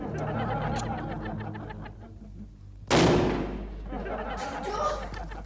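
A single sharp remote-detonated firecracker bang bursts suddenly indoors between stretches of conversation, its loud crack fading quickly as talk resumes.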